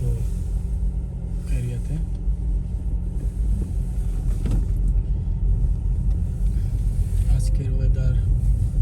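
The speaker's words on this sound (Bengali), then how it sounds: "এই মুহূর্তে আমি ড্রাইভ করছি ফিনল্যান্ডের ভান্টা সিটি কর্সো" A car driving through Vantaa, Finland, on a cloudy winter day with old snow on the road, giving a loud steady interior road rumble and engine drone while someone talks over it.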